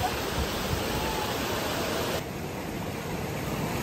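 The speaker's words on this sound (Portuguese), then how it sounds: "E aí aqui a cachoeira, ó." A waterfall in a park pours in a steady, loud broadband rush with no pauses. Partway through the roar drops slightly in level and stays even. No voices are heard.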